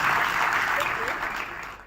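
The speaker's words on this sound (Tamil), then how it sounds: "கரகோஷத்தோடு வரவேற்போம்," Dense audience applause welcoming a judge onto a stage, a continuous wash of clapping at steady volume that tapers slightly at the end.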